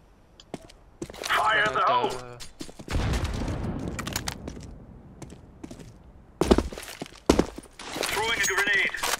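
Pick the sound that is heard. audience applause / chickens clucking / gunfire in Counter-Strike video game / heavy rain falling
gunfire in Counter-Strike video game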